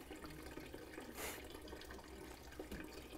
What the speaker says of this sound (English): We're going to start pumping our water again.